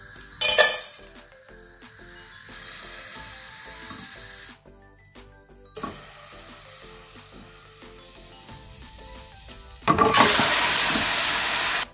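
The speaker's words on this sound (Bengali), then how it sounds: "আমি তেল দিয়ে নিয়ে তেজপাতা, লবঙ্গ, এলাচ, দারচিনি সব কিছু দিয়ে নিছি" Meat fries in hot oil with bay leaves, cloves, cardamom and cinnamon for a curry, with a loud hiss at the start, quieter crackling and clatter in between, then a strong steady sizzle near the end.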